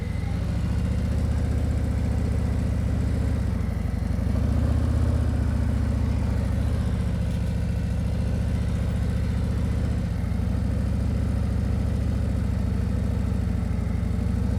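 A motorcycle engine during slow-speed riding practice: a steady, low, close rumble held on light throttle, swelling slightly around the middle, with no talking.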